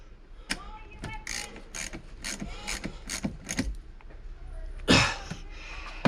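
A ratchet tightens a bolt on the battery of a 2003 Volvo XC90, giving repeated close, crisp clicking strokes in short bursts, with a brief rustle and clunk near the end.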